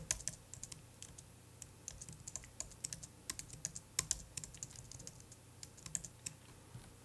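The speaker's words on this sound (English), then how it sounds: "decrease the spacing between the letters by holding Option or Alt and using the left and right arrow keys" Fast irregular clicking of keys on a computer keyboard, mostly the arrow keys, tapped in quick bursts at close range with no talking.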